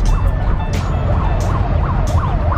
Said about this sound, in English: it's traffic and nobody gives away to this ambulance